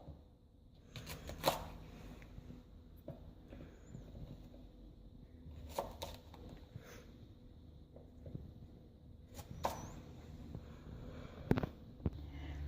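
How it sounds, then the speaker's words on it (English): A knife slits chilies lengthwise on a cutting board while making chilli pickle at home, producing faint, scattered slicing taps and soft scrapes in a few clustered bursts, with no talk. "So you have to cut like this, so that we can stuff the masalas inside the chili."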